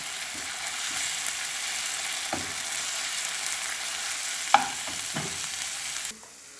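Ground green peppercorn, ginger and garlic paste sizzles steadily in a hot pan while a spoon stirs it, with a few scattered scraping knocks over the continuous fry and a sudden drop in sizzle at the end.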